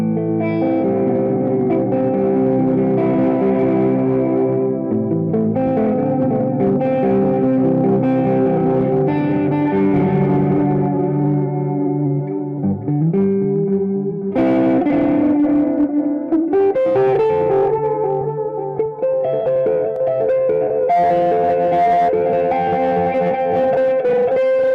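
Electric guitar riffing through an MXR Carbon Copy delay pedal, notes repeating and smearing into echoing, reverberant trails, loud and continuous throughout.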